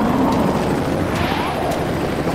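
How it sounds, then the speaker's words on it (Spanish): Cartoon helicopter flying, a steady dense whirring rotor and engine drone that stays loud and constant throughout, with no talk over it. "¡Un helicóptero! ¡Súper genial!"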